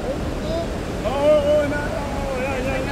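Rearguard Falls in British Columbia roars as a steady broadband rush of falling water, with people talking over it nearby.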